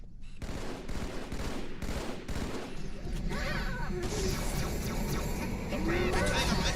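Dense, continuous gunfire rattles through a Halo 2 space-battle scene: rapid overlapping bursts and heavy shots fill the whole stretch at a steady loud level, with voices mixed in at times.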